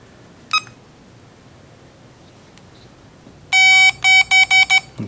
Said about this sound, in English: I didn't have the buzzer turned on